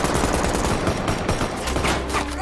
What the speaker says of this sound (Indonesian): terjadilah baku tembak antar mereka